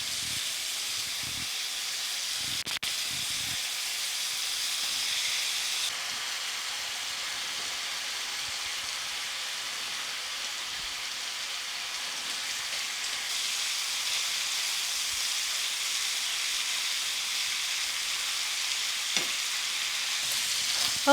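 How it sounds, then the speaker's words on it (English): Ham pieces pan frying in a pan give off a steady, even sizzle and hiss that runs unbroken throughout, with a few faint clinks and stirring taps and no talking. "I'm gonna start pan frying up the ham pieces,"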